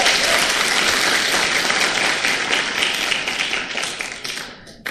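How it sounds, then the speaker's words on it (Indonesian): Audience applause at a sales and prospecting seminar, loud continuous clapping that holds steady and then tapers off near the end. "Tepuk tangan dong buat Anda."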